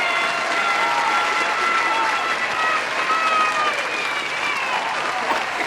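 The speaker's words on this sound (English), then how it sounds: "You're gonna hear the clapping sounds." Loud sustained clapping and cheering at a home seafood mukbang, with whoops and shouted voices mixed into the dense, steady applause.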